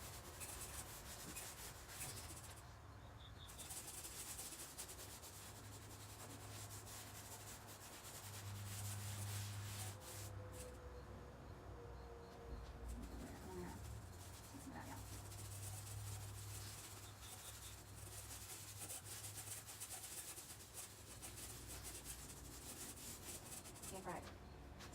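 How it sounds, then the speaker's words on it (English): A dry rag rubs and blends paint across faux shiplap boards in a soft, continuous scrubbing hiss lasting several seconds, faint and close, with occasional low hum in the background. "Well, now I'm going to blend it with the dry rag."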